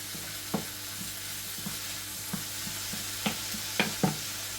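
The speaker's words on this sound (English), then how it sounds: "You want to hear the sizzle." Soft, steady sizzling in a pot with a few sharp scraping clicks from stirring scattered throughout.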